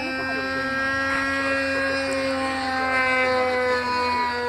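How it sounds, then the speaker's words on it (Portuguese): Small glow or gas engine of a Tucano 46 model airplane running at a steady high-pitched whine with strong harmonic drone, loud and close, holding an even pitch across the whole stretch without talk. "Esse motor tem que afinar mais ele, né?"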